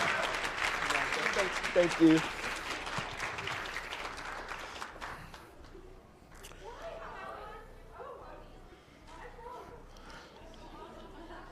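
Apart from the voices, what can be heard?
audience applause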